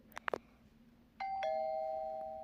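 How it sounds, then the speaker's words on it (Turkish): A few light taps, then a doorbell chimes clearly: a bright two-tone ding-dong ringing out and sustaining to the end, close and alone. "Burada da zilimiz var. Bakın sesini de göstereyim."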